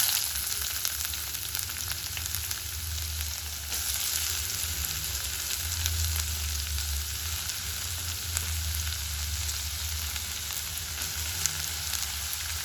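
Onions frying in hot mustard oil in a kadai give a steady, dense sizzle that continues without pause, close up and evenly loud throughout, with no voices.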